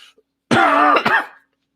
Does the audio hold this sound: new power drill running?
no